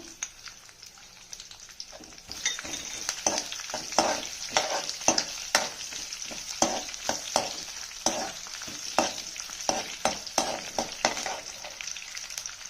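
Curry leaves and crushed garlic crackle in hot oil for ridge gourd pappu: a sharp sizzle rises after a quiet start, then keeps going with quick spattering pops and stirring clicks at an even pace.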